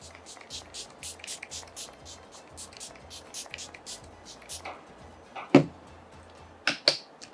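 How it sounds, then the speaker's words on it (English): Several short hissing sprays of makeup setting spray onto a face burst out against a quiet background, with soft faint tapping before them. "she applies setting spray on her face"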